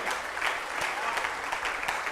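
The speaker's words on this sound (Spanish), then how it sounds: "Denle un aplauso al Señor" Congregation applauding in a Spanish-language church service, a steady, dense wash of many hands clapping at moderate distance with no break.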